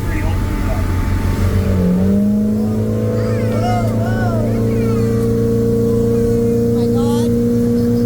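Outboard-powered motorboat on Okanagan Lake revving after earlier overheating, engine droning steadily with rising pitch sweeps as the throttle opens, loud and close, with voices talking over it.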